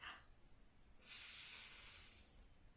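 A voice imitates the hissing sound of the letter S in a phonics lesson, one steady, breathy sss held for over a second, close and clear, then cut off.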